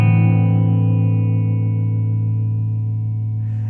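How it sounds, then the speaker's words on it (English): A sustained electric guitar chord through an analog delay pedal, a fast subtle modulation wobble shimmering behind dark repeats as it slowly fades, loud and close without any voices. "So I've got the nice little fast wobble in the background."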